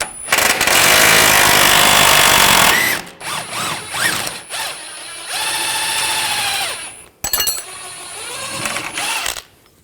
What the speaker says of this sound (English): Now we're going to take this nut and bolt off. Use a 21mm socket